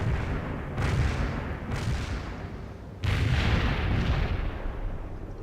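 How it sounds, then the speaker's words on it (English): A mortar barrage in the real-time strategy game World in Conflict, several heavy booming impacts landing one after another, each followed by a lingering rumble under steady battlefield noise, with no talk. "Hopefully Mortar barrage delivered."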